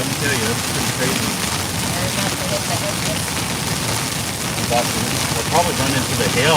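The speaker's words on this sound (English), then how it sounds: "Heavy duty rain though, let me tell you, that's pretty crazy." Heavy rain pounding during a storm chase in Texas, a dense constant roar of drops on the vehicle with scattered sharper splats, loud and close, with a voice talking over it.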